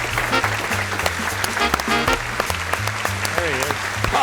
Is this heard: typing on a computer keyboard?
no